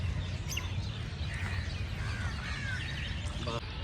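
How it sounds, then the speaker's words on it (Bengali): Early-morning birdsong fills the empty Victoria Memorial grounds in Kolkata, with scattered chirps and calls, including crows, over a steady background hum. "ফাঁকা ভিক্টোরিয়ার চারিদিকে শুধু পাখির ডাক কোলাহল"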